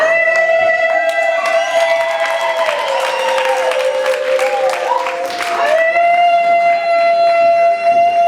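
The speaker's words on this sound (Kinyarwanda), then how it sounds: "Reka tubahe n'ababyeyi bacu ngo batange impundu nyinshi cyane bakira umukwe wacu." Women ululate (impundu) to welcome the groom at a wedding reception, shrill wavering trills rising together over a crowd, with scattered clapping and cheering throughout.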